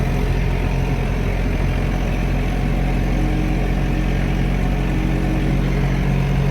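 Vehicle engine on a road tractor run at the Bowes Show, a steady loud low rumble idling and running without change for the whole stretch, with no talk.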